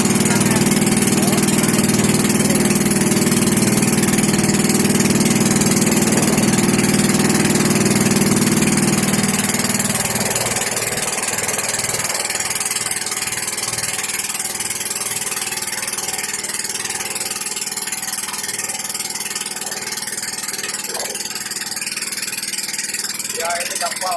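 A passenger boat's engine idles steadily near a white-sand island shore, a loud continuous drone with a deep hum that drops slightly in level about halfway, running alone without talk.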